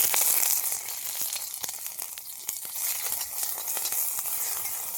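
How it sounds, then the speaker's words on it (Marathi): Green chilies crackle and sizzle in a little hot oil in a kadhai, with sharp irregular pops over a steady frying hiss, close up and with no talking. "थोडस तेल टाकायचं मिरच्या भाजायला"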